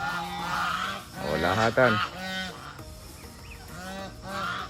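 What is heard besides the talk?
geese honking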